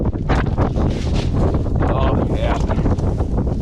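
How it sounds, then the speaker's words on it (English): Outdoor wind buffets the microphone in loud, rumbling gusts beside a 1965 Ford Fairlane 500 Sports Coupe, with someone briefly speaking under the roar. "And here comes the wind."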